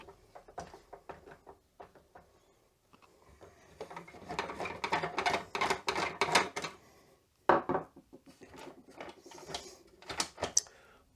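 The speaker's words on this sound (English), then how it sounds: "So let me unscrew these." Screws are undone from the casing of an Olivetti DM 309L 9-pin wide dot-matrix printer, giving irregular close metallic clicks, scrapes and small rattles, with a brief silence partway through.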